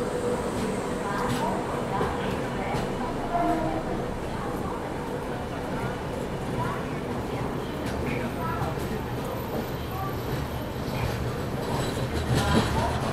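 Inside a general class chair car of the Golconda Express from Guntur to Secunderabad, hauled by a WAP-7 locomotive, a steady loud rumble of the running train fills the carriage, with faint clicks of wheels and background chatter.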